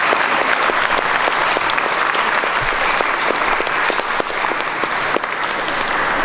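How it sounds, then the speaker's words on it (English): An audience applauds at a talk about the carnyx, a sustained, dense round of clapping with crisp individual claps standing out, steady and fairly loud throughout. "Give her a round of applause,"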